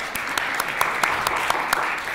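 An audience applauds a panel at the close of a policy discussion, giving an even wash of clapping with a few sharper claps standing out at regular points, fairly quiet and with no talk over it.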